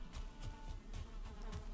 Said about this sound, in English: And I can hear bees.